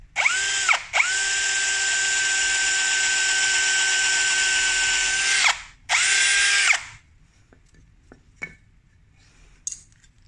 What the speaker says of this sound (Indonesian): Ini bor dulu lah.